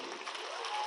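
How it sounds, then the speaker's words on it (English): Audience applause for the winners at the closing ceremony of the Mumbai International Film Festival, a brief, moderately faint burst of many people clapping together, with a faint steady tone running through it. "they deserve a big round of applause"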